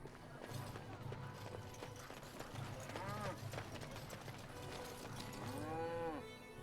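Cows in Dragon Age Origins low out with two drawn-out moos amid a rural village, set over a steady game background hum with soft hoof-like clopping nearby.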